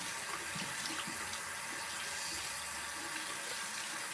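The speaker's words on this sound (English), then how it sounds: "now I'm just gonna rinse this rag off" A rag is rinsed under a running faucet in a sink, a steady, close splashing stream of tap water with no voices.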